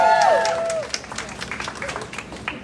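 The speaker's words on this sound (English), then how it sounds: "Give them a round of applause" Crowd applause at an outdoor rally and press conference in New York City, steady clapping that follows a brief voice and continues as a dense, moderately loud patter to the end.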